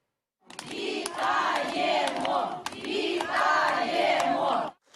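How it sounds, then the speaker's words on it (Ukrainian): A village crowd in Demydivka, Ukraine, welcomes a paratrooper home from captivity, with loud, sustained cheering and rhythmic chanting and some clapping. "Під гучні оплески з прапорами та квітами, зустрічаючи свого героя Анатолія Лоткіна, у Демидівці сьогодні радіють та плачуть одночасно"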